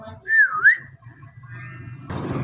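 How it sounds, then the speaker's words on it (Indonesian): A person walking whistles a short rising-and-falling tune, clear and close, followed by soft footsteps and a burst of background noise. "Rizky tampak berjalan dengan siulan."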